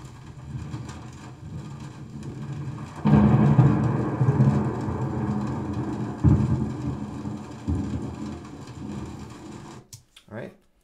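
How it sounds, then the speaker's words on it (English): Layered rain and thunder effect: a steady rainy wash with low rumbles swelling loudly around three seconds and again mid-way, then cutting off abruptly near the end. "That rain will probably blend in."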